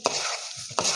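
Spoon stirring and mixing raita masala spices in a bowl, two short scraping strokes with a steady gritty rustle between them, close and alone.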